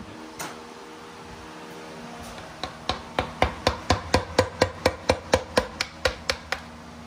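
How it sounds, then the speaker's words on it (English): Sharp metallic hammer blows strike a screwdriver wedged against a vehicle part during a gear swap on a daily driver, about sixteen evenly spaced taps that start after a quiet pause and grow steady and loud. "Get a hammer and a screwdriver."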